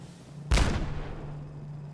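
A grenade explodes in the video game Fallout 4 with a single sudden loud boom, followed by a decaying rumble of debris that fades over about a second, and no talking.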